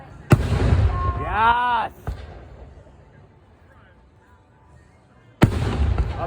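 Fireworks at a 4th of July show in Harrison, Idaho: two loud, near booming bursts several seconds apart, with a spectator's excited shout between them and quieter crowd sounds lingering after the first blast.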